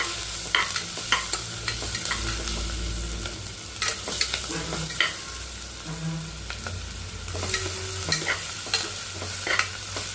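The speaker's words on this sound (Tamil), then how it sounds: "இப்போ வெங்காயம் மிளகா வதங்கிட்டு இஞ்சி சாரி பூண்டு ஆட் பண்ணிக்கிறேன் பூண்டு போட்டுங்க நல்லா ஃப்ரை ஆகட்டும்" Garlic frying with onion and green chili in a pan, a bright continuous sizzle punctuated by frequent scraping strokes and taps of a spatula as the mixture is stirred.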